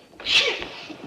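A single sharp sneeze, close and fairly loud, with a quick intake of breath before the burst.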